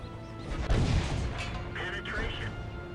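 Artillery shells landing in a World of Tanks battle, one heavy close impact thudding out amid the rumble of combat, followed by fainter metallic clanks, with someone narrating over it.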